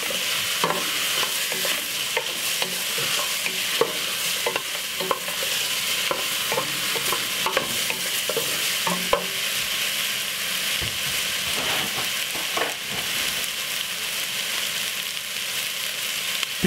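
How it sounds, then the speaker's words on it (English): Cooked spaghetti and mixed vegetables fry in a pan with jerk seasoning, a loud continuous sizzle broken by frequent clicks and scrapes of stirring for a sustained stretch. "Give it a stir."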